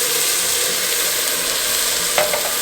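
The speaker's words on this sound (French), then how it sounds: "Je vais venir déglacer avec une tasse de vin rouge." Sautéed vegetables sizzling loudly in a pot as red wine is poured in to deglaze, a steady close hiss with a small stir clink near the end.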